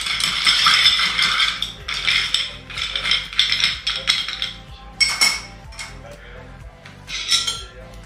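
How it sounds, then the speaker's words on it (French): Ice cubes clink and rattle against the glass as a Suze Tonic cocktail is stirred, bright repeated tinkling bursts in several clusters, close and clear, with no talking. "Un glaçon qui fait ça."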